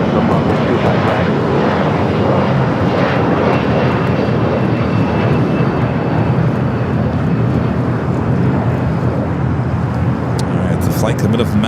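A jet aircraft roars at Los Angeles LAX airport, a loud, unbroken engine rumble filling the scene while a voice talks over it.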